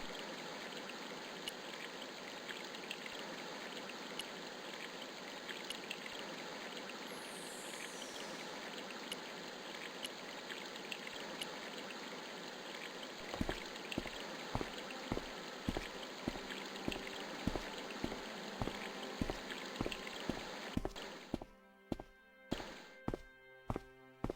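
A garden hose in Broken Sword: Shadow of the Templars runs from a utility room out to a lawn, giving a continuous soft trickle of flowing water, later joined by a series of evenly spaced dull thumps.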